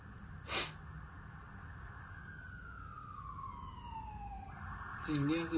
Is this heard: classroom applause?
no